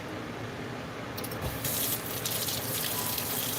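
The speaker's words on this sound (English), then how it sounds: "Since the hot water's been running." Hot water running from a kitchen sink tap, a steady close rush that swells into a louder splashing gush partway through, with no talking.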